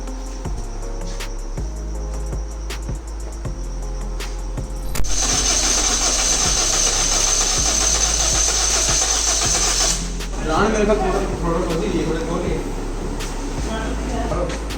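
Maruti Baleno fitted with an Axio engine being cranked on its self starter, a loud whirring crank that catches into a rough running engine, with voices talking over parts of it.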